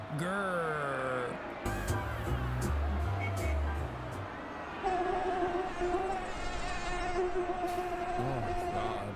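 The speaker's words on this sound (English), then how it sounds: "Oh God, mosquito." A mosquito whines in a thin, high, wavering buzz that rises and falls and continues for several seconds over a room with people talking and low background noise.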